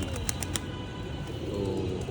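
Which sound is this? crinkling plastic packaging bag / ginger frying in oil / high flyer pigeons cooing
high flyer pigeons cooing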